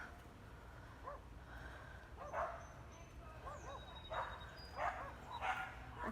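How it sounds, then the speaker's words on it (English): A little dog in a garden gives a string of short, high yips and barks in irregular bursts, at moderate distance over faint outdoor background. "Hey, go home. Look at that little doggy."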